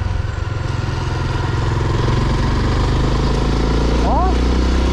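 Motorcycle engine revved with the throttle worked by foot, a loud continuous chugging drone close by, with a brief laugh near the end.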